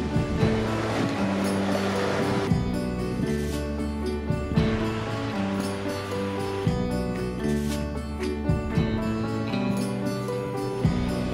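Ocean waves along the Asilomar Beach trail in Monterey County wash in with a steady roar and repeated surges of surf, close and fairly loud, with no voices.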